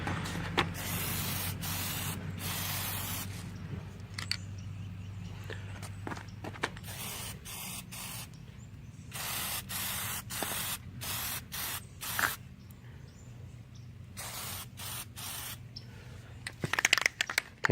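Aerosol spray paint hissing from a can in repeated bursts of varying length separated by short pauses, close and fairly loud, with faint footsteps and handling noise between sprays and near the end.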